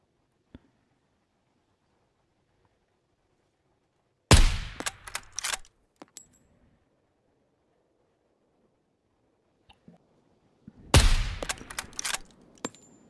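Two loud, sharp sniper rifle shots in the video game SCUM, each followed by quick mechanical clatter, separated by near silence with a few faint clicks.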